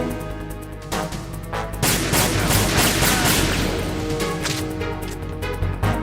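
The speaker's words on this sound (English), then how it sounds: "Are they shooting the lights?" Rapid bursts of game gunfire in Metal Gear Solid, loud and close, with cracking impacts and shattering as overhead lights get shot out, over a steady background hum.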